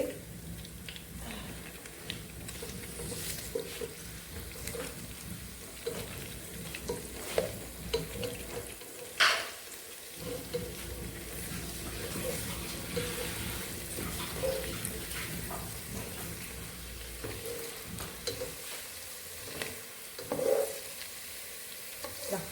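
Onions frying and being stirred in a pan for homemade Arabic chicken mandi, a steady close sizzle with scraping stir strokes and a sharper clatter near the middle, no talk.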